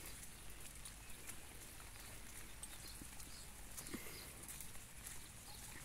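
Heavy rain pours steadily over farmland in the Pernambuco agreste, a dense, even hiss of drops hitting surfaces throughout with no breaks or voices.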